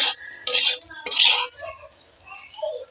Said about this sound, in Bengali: তিল ভাজাটা বেশ লাল মতন হয়ে গেছে এইভাবেই ভাজতে হবে